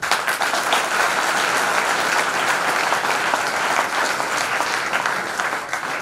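Audience applause follows a theatrical presentation on legal literacy and women's empowerment at a college, with continuous crowded clapping holding steady throughout before easing slightly at the end.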